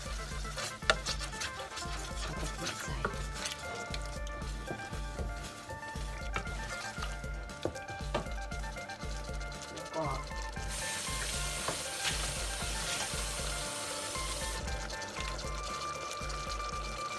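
Coconut milk poured into a pot of Thai red beef curry, with sizzling, bubbling and stirring clatter against the pot, and a rhythmic low thumping running under the cooking noise.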